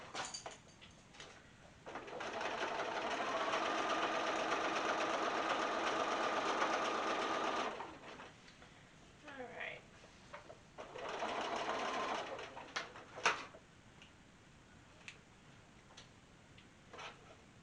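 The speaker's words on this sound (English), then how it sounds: "I'm going to sew these together" A sewing machine stitches denim quilt pieces together in two sustained runs, a long steady whir of several seconds then a shorter burst, with quieter handling clicks and rustles between and after.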